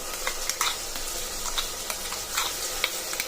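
Masala paste for veg pulao frying and being stirred in a pan, a steady bright sizzle with scattered scraping clicks of a spoon, close and continuous without talk.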